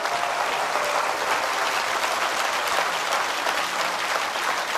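A church congregation applauding for Jesus, loud sustained clapping from a large crowd that fills the room steadily from start to end.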